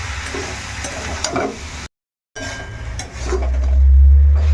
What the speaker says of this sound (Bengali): আর এই ডুমুরগুলো দিয়ে এর সঙ্গে আবারও একটু মিনিট 2 মতন কষিয়ে নেব